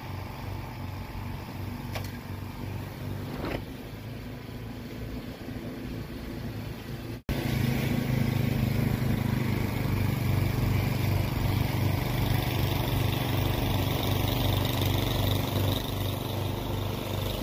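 Craftsman snowblower engine droning steadily while clearing snow, its roar growing noticeably louder and heavier halfway through as it bites into the pile, with no talk.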